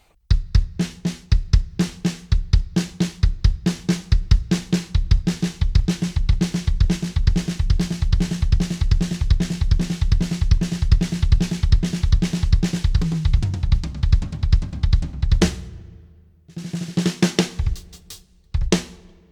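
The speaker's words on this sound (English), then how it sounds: "kick to snare, it would sound like this." Kick drum and snare alternate in a fast, steady pattern, punchy and close, speeding up before a brief pause and a final burst of hits, played as a kick drum speed exercise.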